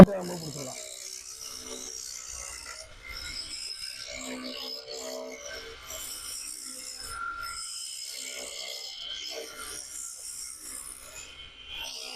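Steady scraping and rasping of a metal chisel being sharpened on a stone, faint and repeated in an uneven rhythm, with a voice murmuring occasionally.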